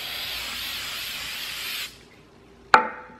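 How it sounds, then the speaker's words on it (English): A steady aerosol adhesive spray hisses for about two seconds and then cuts off, followed by a sharp clack of the can being set down. "got to shake it up, and you got to spray it"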